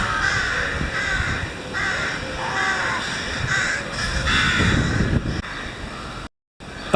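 A dense chorus of rooks cawing over one another without pause, a busy colony calling steadily with some wind noise in the background.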